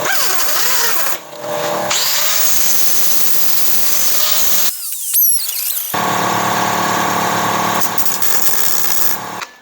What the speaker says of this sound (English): how much I'm grinding off with my 2-inch disc grinder here